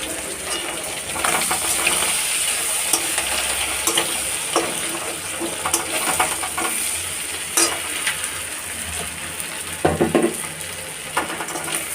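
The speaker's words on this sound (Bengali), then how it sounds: "মাছটা ভাজা হয়ে গেছে, এখন মাছটা তুলে নেব।" Prawns fry in hot oil in a home kitchen, giving a steady close sizzle and hiss with scattered spits and pops throughout, and no voices.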